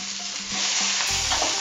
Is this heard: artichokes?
yes